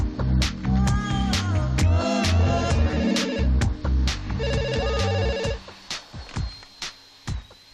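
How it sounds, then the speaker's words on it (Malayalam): An old-style telephone rings in a Malayalam comedy scene, repeated electronic trilling bursts over a busy background of music and thumps, the rings stopping near the end as scattered knocks follow. "ജെന്നിഫറിന്റെ ഫോൺ."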